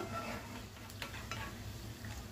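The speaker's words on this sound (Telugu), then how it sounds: "ఒక 5 నిమిషాల దాకా అక్కడ మంట తక్కువలో పెట్టేసుకొని ఇలా ఫ్రై చేసుకోవాలి" Onion pakoda batter frying in oil over a low flame, a steady soft sizzle and bubbling with a few faint clinks of a utensil turning the pieces, close and alone.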